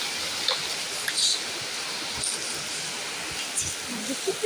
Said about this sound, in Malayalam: അപ്പോൾ നമ്മുടെ ഇവിടെ ഇച്ചിരി മഴയുണ്ട്